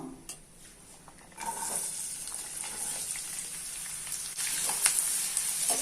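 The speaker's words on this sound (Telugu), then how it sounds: "ఆయిల్ హీట్ అవుతుంది ఇప్పుడు ఉల్లిపాయ వేసి ఫ్రై చేసుకుందాం" Onions frying in hot oil in a pan on a stove, a steady broadband sizzle that starts quietly and swells louder after about a second and a half, then runs on continuously with a few brighter pops near the end.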